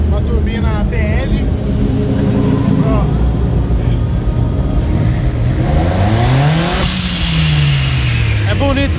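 A car engine fitted with a TL turbo kit revs hard several times, rising and falling in pitch, loud and close, with a sharp climbing turbo whine near the end.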